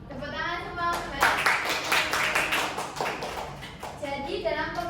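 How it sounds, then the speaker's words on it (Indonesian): A class of children bursts into a round of hand clapping, a dense patter of claps lasting a few seconds, with children's voices and a teacher talking around it. "Tepuk tangan semua Mbak"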